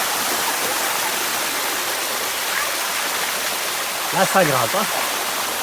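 Sticky Waterfall near Chiang Mai pours in a steady, close rushing roar that fills the whole scene, with a brief spoken voice rising over the water near the end.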